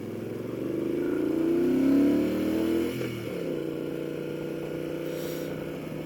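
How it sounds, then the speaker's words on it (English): A 1999 Moto Guzzi California V11 EV motorcycle engine drones at freeway speed, the pitch climbing then dropping as it shifts, with steady wind rush and no talking. "Going to let you guys experience the bike at freeway speeds."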